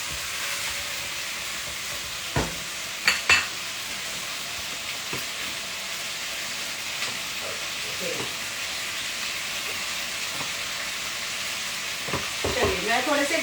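Mutton chops fry in a pan under a steady close sizzle and hiss, with scattered knocks and scrapes from a spoon stirring them and a burst of busier scraping near the end.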